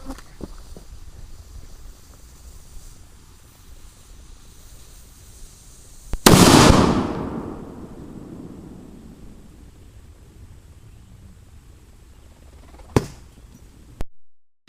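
A mini anvil shoot launch blast goes off as one sudden loud boom that trails into a long rumbling decay, followed later by a couple of sharp distant pops outdoors.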